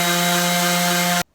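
A power sander working the wood of a canoe seat, loud and close with a steady whining hum that cuts off abruptly near the end.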